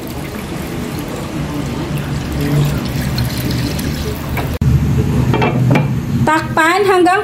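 Water poured into a cooking pot of sautéed onion, tomato, canned sardines, pepper and soy sauce for odong noodles, a steady liquid splash followed by clinks and a brief voice.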